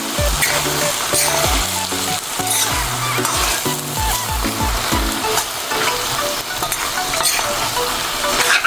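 Food sizzles loudly in a pan throughout, with stirring sounds and a low melodic background underneath.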